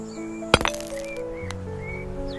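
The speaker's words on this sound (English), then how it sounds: "A high-pitched clink rings out" A sharp, high-pitched clink sounds once in a cave, followed by quick rattling after-hits and a lingering ringing echo over a faint droning background.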